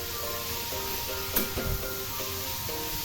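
Radish and chana dal sautéing in a pan, a steady close sizzle running throughout with a few soft stirring scrapes near the middle.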